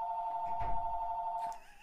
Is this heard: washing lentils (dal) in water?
no